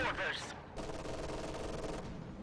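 An MG42 machine gun in Company of Heroes 2 opens up in a long sustained burst of rapid fire, preceded by a brief blast, loud and continuous in the game mix.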